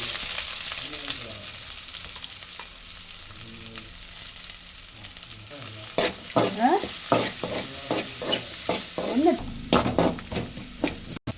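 Mustard seeds, green chili, ginger, garlic and chopped shallots fry in a pan with a constant sizzle. Stirring grows busier in the second half, with repeated spoon scrapes and clatter against the pan.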